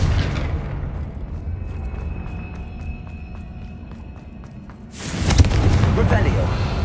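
A Confringo blasting spell goes off in Hogwarts Legacy, a sudden loud boom and rushing burst after a quieter stretch of faint tones, with speech heard earlier.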